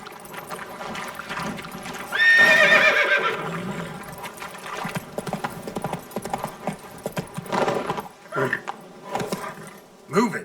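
A horse in The Witcher 3: Blood and Wine gives a loud, close whinny amid a rhythmic clip-clop of hooves that continues through the rest of the clip.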